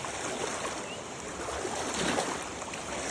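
Floodwater from a cloudburst surges past at high speed in a rural stream, a dense, unbroken rushing roar held at a close, even loudness for the whole stretch, without talk.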